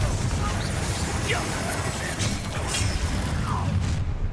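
A Confringo fire spell blasts in the video game Hogwarts Legacy, a muffled boom and crackle rising over dense, constant game ambience and rumble, with a voice speaking nearby.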